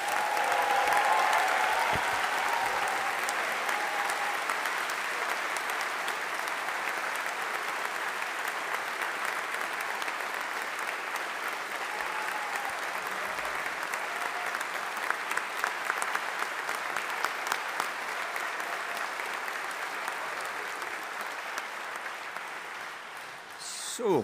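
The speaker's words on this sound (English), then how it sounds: "let's give the class of 2025 a big round of applause" An audience applauds graduates of the Strathclyde Faculty of Engineering at a graduation ceremony, sustained dense clapping from a large crowd that stays steady for over twenty seconds with occasional cheers.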